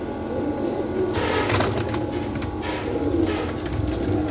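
Pigeons in a loft, old quality birds and fancy fantail breeds, cooing in soft overlapping rumbles close by, with rustling and a few sharper bursts of movement among them.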